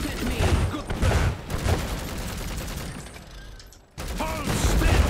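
Gunfire in the Iron Harvest video game, dense bursts of shots with a dip to near silence before firing resumes loudly, with brief game voices mixed in.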